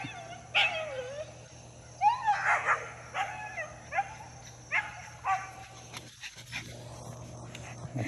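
An American Hairless Terrier retrieving on grass gives several excited yips, whimpers and short barks in bursts, close and fairly loud, with no talking over them.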